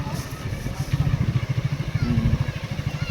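A motorcycle engine at a village temple festival thrums with a fast, pulsing beat as the throttle is eased open, close and fairly loud, with voices and crowd noise in the background.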